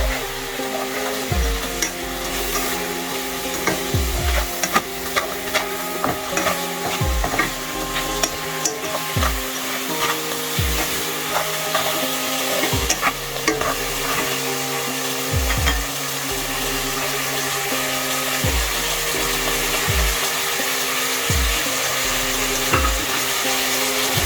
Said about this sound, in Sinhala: ඊට පස්සේ සුදු ලුණු ටික දමා හොඳින් බැද ගන්න.